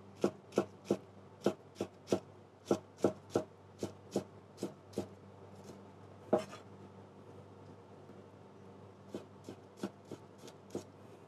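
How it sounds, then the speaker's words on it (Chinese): A knife cuts food into fine shreds on a board: a steady run of evenly spaced, crisp chops, a short pause with one louder knock, then a few more chops, close and fairly quiet. "咁啊切丝啦"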